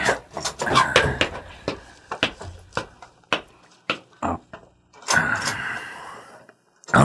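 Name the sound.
car door being opened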